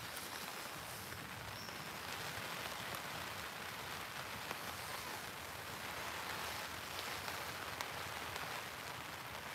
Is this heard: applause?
no